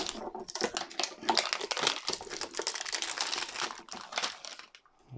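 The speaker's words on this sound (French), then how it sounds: "nous allons passer à la boîte JCC Pokémon, donc que je vais ouvrir" Plastic wrapping crinkles as a Pokémon TCG booster box from 2022 is opened, with dense, close crackling and crumpling that runs nearly continuously before easing off at the end.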